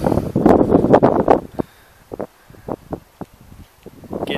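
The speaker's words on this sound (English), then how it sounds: "It's a bit of a windy day. I don't know if you guys can hear me over that." Autumn wind at an outdoor campsite buffets the microphone on a large rock, with a loud rumbling gust for about a second and a half, then fainter sporadic puffs and rustles.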